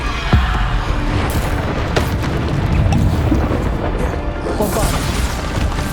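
Bombarda spell blasts in Hogwarts Legacy combat, several booming impacts and crashes at close range over dense, continuous battle noise with game effects layered throughout.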